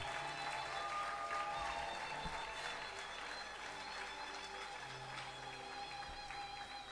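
Applause from the audience at an honorary doctorate ceremony at the University of Kinshasa: a steady, continuous patter of many hands, faint and distant, held evenly for several seconds.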